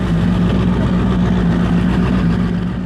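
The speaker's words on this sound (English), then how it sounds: "I stuffed a V8 engine into a personal watercraft." A loud, steady V8 engine, turbocharged and fitted in a personal watercraft, drones continuously with a deep low rumble and a strong tonal hum, idling without pauses and no voices.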